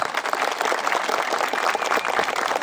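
A crowd at a Kangal dog competition applauds with dense, continuous clapping throughout, fairly loud and close.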